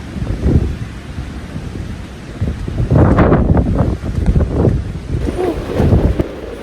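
Typhoon wind buffets a pine forest camp in strong gusts, loud roaring rushes buffeting the microphone and rising and falling over several seconds.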